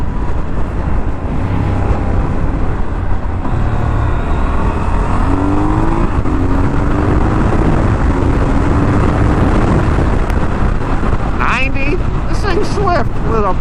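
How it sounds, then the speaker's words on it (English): A Triumph Scrambler 1200 motorcycle pulling hard in fourth gear around 80 mph, a loud, steady engine roar mixed with heavy wind rush at close range throughout. "This thing in 4th gear is really ripping."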